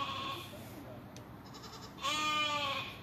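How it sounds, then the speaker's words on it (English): Sheep bleat from a pen, first a fainter call and then a loud, wavering bleat near the end, with faint background noise and no talk. "I don't think those two sheep are happy down over here"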